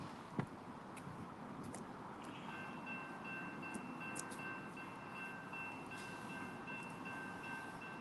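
Amtrak passenger train rolling past beside the Mohawk River, a steady broadband rumble and rail noise filling the scene throughout, with a faint sustained high tone, likely horn or wheel squeal, entering partway and a sharp knock near the start.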